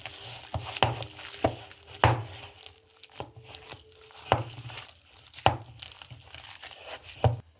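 Momo filling is mixed with spices in a bowl, giving a slow, uneven run of soft thuds and scrapes with short pauses between strokes, quiet and close.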